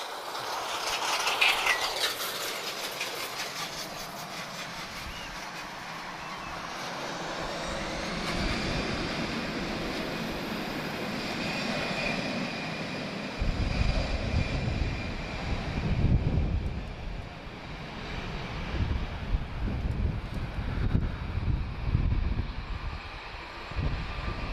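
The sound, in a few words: Airbus A320ceo taking off for Dublin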